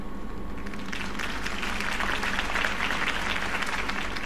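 Steady crowd applause fills the scene after a mayoral campaign speech in the Batman Telltale Series video game, a dense, sustained clapping wash at moderate level with no break or voices on top.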